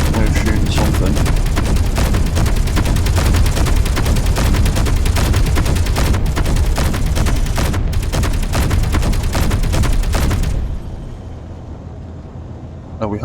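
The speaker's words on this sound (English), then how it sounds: "We're shooting something." Rapid, sustained gunfire from weapons in the space-building game Space Engineers roars loudly and continuously for about ten seconds, then cuts off, leaving a lower mechanical hum.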